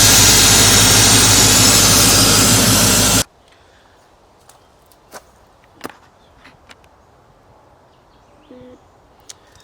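A 350 small-block V8 in a 1983 Chevy C10, freshly tuned up, roars loudly and steadily for about three seconds, then shuts off, leaving near silence broken by a few faint clicks and ticks.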